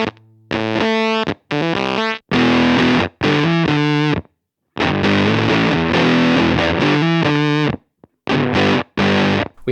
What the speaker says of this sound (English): turn it down into gated fuzzing, ripping Velcro sounds, and then all the way into spitty, splatty, bias-starved germanium fuzz